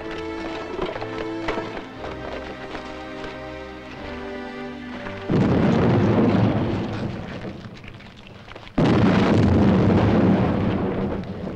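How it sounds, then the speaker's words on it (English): Film explosions in a 1980s action-adventure set at mines on Kilimanjaro: two sudden, loud broadband blasts strike about five and nine seconds in, each followed by a sustained roar of debris, after a tense orchestral score. "Explosion coming!"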